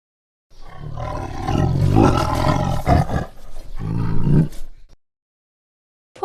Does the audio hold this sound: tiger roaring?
yes